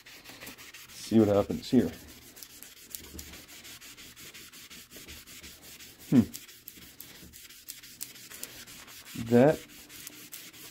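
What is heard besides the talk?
magic eraser rubbing on pinball playfield overspray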